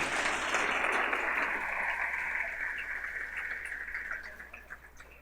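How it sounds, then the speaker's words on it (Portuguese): A church congregation gives a round of applause, a steady hiss of distant crowd clapping under a faint tonal hum that gradually tapers off. "Pode dar uma salva de palmas para ele."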